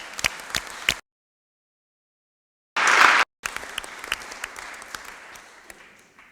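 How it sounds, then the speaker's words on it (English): An audience at a Board of Deputies meeting gives a round of applause, broken by a sudden gap of silence, then a loud burst and continued clapping that gradually fades. "that really deserves a round of applause"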